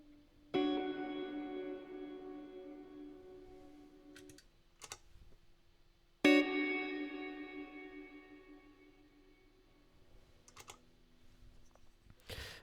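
Two plucked guitar chords, each struck sharply and left to ring and decay, followed by softer repeating echoes of the digital tape-echo setting on a Lost and Found pedal, with a faint tail near the end and no talk.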